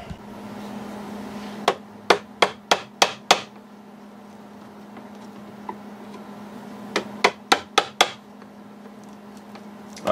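A screwdriver tip works against the wooden case of a 1934 Ingraham Bedford wall clock, producing two close series of sharp, evenly spaced clicks and taps, about five then six, over a faint steady hum.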